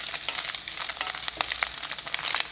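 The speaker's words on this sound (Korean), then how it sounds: "스팸을 넣고 스팸이 노릇해질 때까지 볶아주세요." Spam frying in cooking oil with minced garlic over high heat in a pan, giving a continuous close crackling sizzle with irregular pops and spits.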